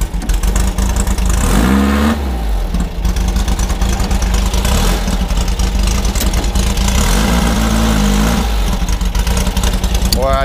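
A VW-powered rail buggy engine runs steadily and loud after a clutch adjustment, with rising revs in between, someone talking over it.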